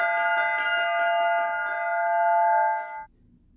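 Russian church bells ring together, with rapid repeated strikes over a bright sustained ringing hum that carries steadily for about three seconds and then cuts off abruptly to near quiet.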